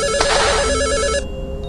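A cell phone rings inside the horror video game Mad Father, a loud repeating electronic ringtone pattern that plays steadily for over a second before cutting off, with no voices over it.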